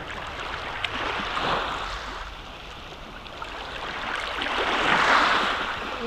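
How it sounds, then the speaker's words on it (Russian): Sea water washes in a rocky lagoon on the Black Sea coast at Utrish near Anapa, a close, rushing surge that swells and recedes with wind-like noise and no talk. "Ой, меня сносит волной."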